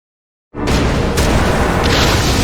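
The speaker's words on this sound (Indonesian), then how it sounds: "Marsil ngorbanin sisa mananya buat kas ledakan skala besar" Sudden loud boom from a large-scale magic explosion in the anime Dungeon Meshi, erupting after a brief silence into a sustained roaring blast that fills the rest of the moment, with a second burst layered in.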